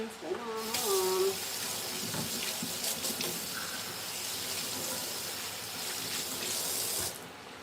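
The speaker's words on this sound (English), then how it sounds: "let me wash my hands" Water runs from a tap into a sink while someone washes their hands in a home kitchen. The flow is a steady, close hiss with brief splashes and clatter, and a voice talks over it near the start.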